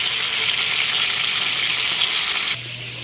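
Loud, steady sizzling of tilapia frying in hot oil during rain, a dense crackling hiss that drops off abruptly near the end, leaving a low hum.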